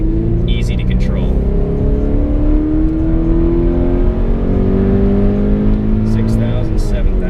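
A 2017 Subaru BRZ revs hard under acceleration on a test drive, engine pitch climbing steadily through the gears, loud and close from inside the cabin.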